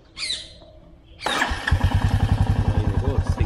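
A Royal Enfield Meteor 350 motorcycle, shifted into neutral with a low battery, gives a brief starter whine, then cranks and fires into a loud, close, rhythmic thumping idle that steadies quickly.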